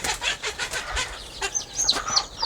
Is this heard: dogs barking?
no